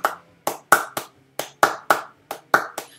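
Hand claps beating out a syncopated groove, about a dozen crisp close claps in uneven clusters, heard alone without speech.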